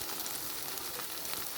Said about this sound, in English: we are going to add some butter and fry these up